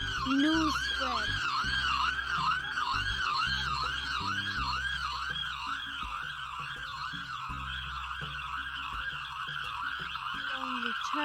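Police sirens wailing continuously in a fast rising-and-falling pattern, loud and steady throughout, over a low rumbling drone with intermittent deeper tones.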